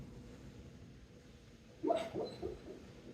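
A sleeping, dreaming dog gives a short burst of soft, muffled yips and whimpers near the end, close by and faint over quiet room hiss.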